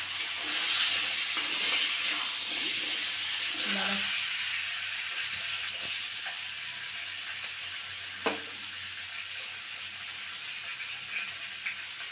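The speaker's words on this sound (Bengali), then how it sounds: "আলুগুলা ভাজা হয়ে গেছে" New potatoes sizzle and hiss steadily in a hot pan, with occasional soft scrapes from stirring.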